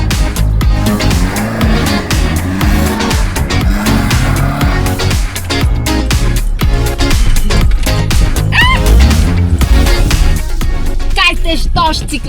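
A Toyota is pushed hard and fast, its engine revving and tires squealing through sharp maneuvers, loud and continuous beneath excited talk and background music.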